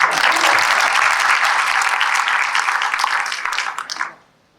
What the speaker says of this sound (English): if you would please give her applause loud enough to be heard at her home